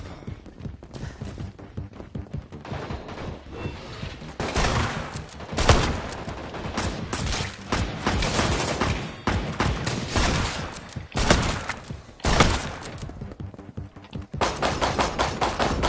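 Repeated shotgun blasts ring out in the Resident Evil RE: Verse game, loud bursts coming in uneven clusters over dense continuous game noise, with a few quieter stretches between volleys.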